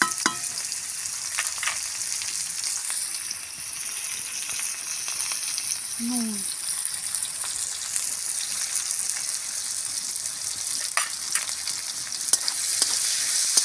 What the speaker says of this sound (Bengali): ভালো করে পেঁয়াজগুলো আমি ভেজে নিই